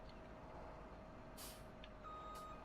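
Truck engine running in the farming game Farming Simulator 17, a steady low rumble with brief hissing bursts like air brakes and a thin tonal whine, heard alone with no talk.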